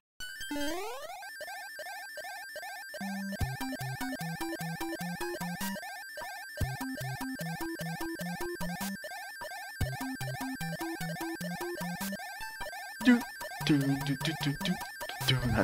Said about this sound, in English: the music sounds so different when you're using the P-Wing because of that whistle